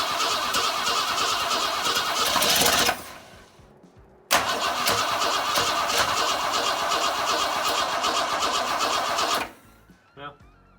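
A 1962 Ford Falcon with a carburetor problem and a weakening battery cranks in two long start attempts, a loud, close, steady churning separated by a short pause, with no catch.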